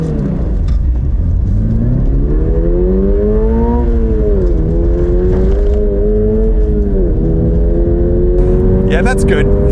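A 2022 Subaru BRZ coupé accelerating hard from 0 to 100 km/h, heard from inside a noisy cabin: engine note climbing through gears with brief dips at each shift, loud and close.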